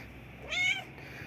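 A clean street cat gives one short, close, clear meow in the middle of an otherwise quiet moment.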